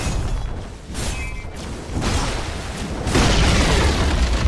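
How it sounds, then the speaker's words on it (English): A tower in the Dota 2 video game being destroyed: deep booming crashes and bursts in quick succession, growing louder toward the end, with no voices. "Radiant's bottom tower has fallen."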